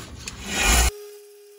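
A Buck 119 knife being re-profiled and sharpened on a coarse 120-grit stone after hard use, giving a loud, steady gritty rasp of steel on abrasive that swells and then stops abruptly, leaving quiet.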